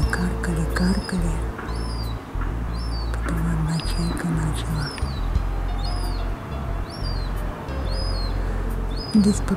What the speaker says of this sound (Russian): Беспокойно кричать, и все чайки начали отвечать ей.